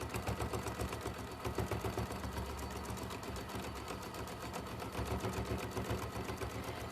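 Domestic sewing machine stitching fabric for a bag with 50 weight solid-colour thread, a steady rapid needle clatter running continuously and close, with no voices.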